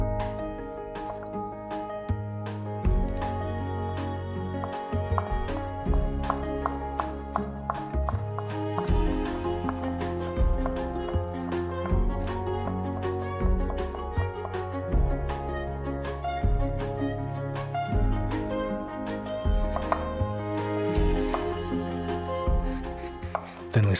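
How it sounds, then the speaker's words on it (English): A knife slices ginger into thin matchsticks on a board with rapid, close chopping taps in fast bursts, separated by brief pauses, loud and clear with no talking. "Small piece of ginger, thinly sliced into matchsticks."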